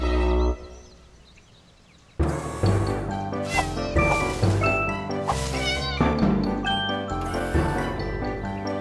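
Cartoon cats meow and caterwaul while a dog chases them up a tree, their cries rising over busy music with jingling tones, a quiet stretch at the start before the sound bursts in loudly.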